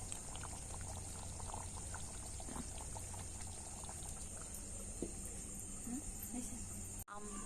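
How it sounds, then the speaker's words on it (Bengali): Chicken curry in a clay pot keeps simmering after being taken off the heat: a soft, continuous bubbling with scattered small pops, faint and close, while a steady hiss runs underneath. "দেখুন চিকেনটা নামানোর পরেও ফুটছে"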